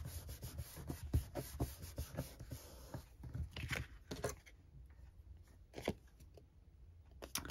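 Paper being cut around printed vintage European ephemera pieces, giving close, quiet snips and rubbing scrapes in irregular bursts with soft handling rustle between them.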